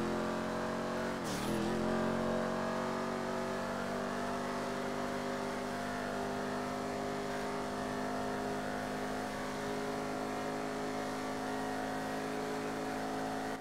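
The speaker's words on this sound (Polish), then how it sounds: "teraz chwila ciszy dla ludzi, którzy chcą posłuchać silnika." Jeep Wrangler Trailcat 2016 engine in GTA V: a sustained, fairly loud idle-to-rev drone with a quick throttle blip near the start, then a steady held hum with no talking.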